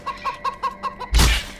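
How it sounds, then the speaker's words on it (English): A chicken in the video game Hunted: The Demon's Forge gives a steady run of quick, rhythmic clucks up close, then a sudden loud burst cuts in near the end. "I will get this chicken"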